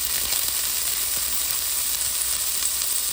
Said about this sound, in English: now we're gonna go ahead and add our sausage